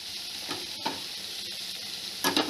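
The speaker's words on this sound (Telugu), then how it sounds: "ఆనియన్స్ వేసుకున్నాక కిందకి మీదకి బాగా కలుపుకోవాలి." Onions fry in a pan with a constant soft sizzle while a spoon stirs them, giving a few light scraping strokes and a louder clatter near the end.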